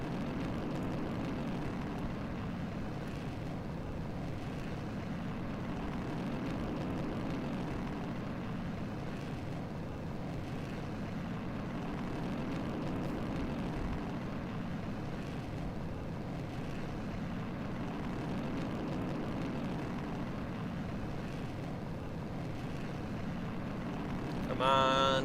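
Rocket engine at full throttle during a launch in Kerbal Space Program with the RP-1 mod, a steady loud broadband roar holding for the whole stretch with no breaks, a voice talking over it.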